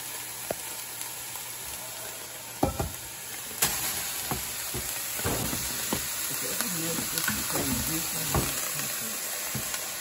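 Drained ground meat returned to a hot pan for stuffed bell pepper filling, sizzling steadily while a spoon stirs and scrapes through it, with a few louder knocks against the pan, close and continuous.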